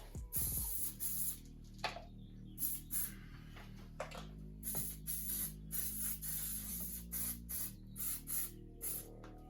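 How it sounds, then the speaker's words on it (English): Short bursts of brake cleaner spray hiss repeatedly in an irregular rhythm around an Audi's oil filter area, over a low steady mechanical hum, close and fairly loud. "just spray some brake cleaner around the area"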